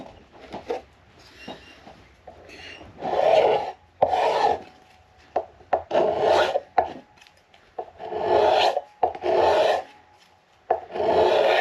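A hand scraper shaves wood from the neck of a 1937 Martin D18 acoustic guitar with repeated close, rhythmic rasping strokes, some short and some long, separated by brief pauses.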